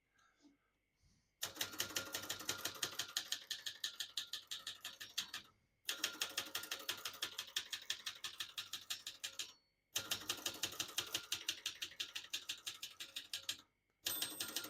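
Rapid, rhythmic clacking of a 1970 Brother Pro Line 709 portable manual typewriter in three long bursts separated by short pauses, close and crisp, with a faint voice at the start.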